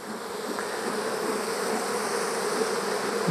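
Dense, steady buzzing of many honey bees swarming close around an open hive box, a continuous droning hum with no voices.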